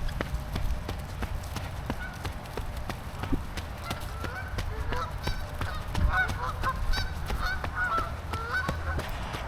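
Geese honk repeatedly at close range beside a road, their calls rising over a steady low rumble with scattered footfalls and faint movement throughout.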